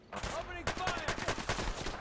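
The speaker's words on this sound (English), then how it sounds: "Opening fire!" Gunfire in Fallout 4 against raiders: a fast run of loud, close shots in quick rhythm, with a voice heard briefly at the start.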